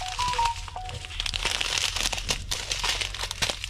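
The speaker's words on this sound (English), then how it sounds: "Sorry about all of the crinkling." Plastic packaging from an Amazon order crinkles and crackles continuously at close range while being opened, with irregular sharp rustles throughout.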